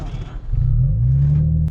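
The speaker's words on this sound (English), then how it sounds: "the underbody of the car scraps very well on the speed breakers, which you can hear it inside the cabin" Underbody of an Audi S5 scraping over a speed breaker on an Indian road, heard from inside the cabin: a close, heavy low rumble that builds after a brief pause and holds steadily.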